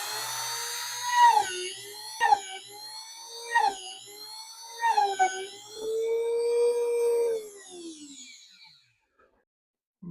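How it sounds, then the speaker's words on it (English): A drill bores holes through a leather knife sheath in several short, high-pitched whining bursts, each spinning up and winding down, with one longer run before the motor stops. "we're going to drill these holes out"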